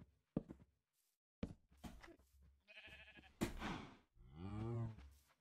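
Sheep bleating in a Minecraft-style video game, with several short, wavering bleats at close range separated by brief gaps, alongside other game sounds.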